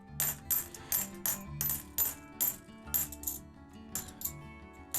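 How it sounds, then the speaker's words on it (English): Gold and silver coins clicking and clinking against each other in quick repeated handfuls, bright metallic chimes with ringing tails, close and fairly loud with no voices. "You get to hear the clicking of coins"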